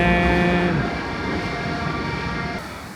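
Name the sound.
Budapest subway train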